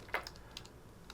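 Light typing on a computer keyboard, a few soft scattered key clicks at close range over a quiet background.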